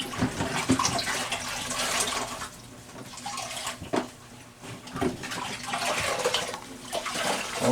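A sponge is rinsed and squeezed in a bucket of water during bathroom wall tiling work, with close sloshing, splashing and dripping in uneven bursts that rise and fall.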